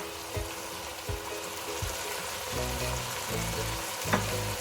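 Spices and boiled black-eyed peas frying together in a pan, a low steady sizzle punctuated by dull knocks of stirring every second or so, growing busier toward the end, close but quiet with no speech.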